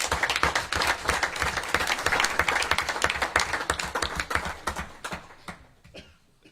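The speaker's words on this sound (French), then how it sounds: "On peut les applaudir également." Audience applause at the installation of a new town council, a steady dense clapping from a room full of people that holds strong for about five seconds before tapering off to silence.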